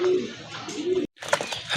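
Fancy pigeons at a sale coo softly in short low calls, with a brief gap of silence and some rustling amid the birds.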